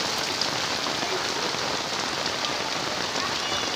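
Heavy rain pours down steadily during a flood in eastern Cirebon, a dense, continuous hiss of drops striking surfaces, with no talk over it.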